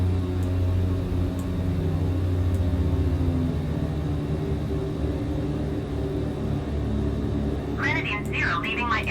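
A BN-2 Islander's twin piston engines throttled back in Microsoft Flight Simulator, a steady loud droning rumble with a constant engine hum throughout, with a voice speaking briefly near the end.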